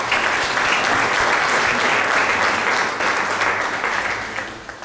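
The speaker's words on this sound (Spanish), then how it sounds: "Les damos un aplauso a mis dos amigos" Sustained applause from a church congregation during a Christmas sermon, a dense wash of clapping that holds steady and then begins to fade toward the end, with no talking over it.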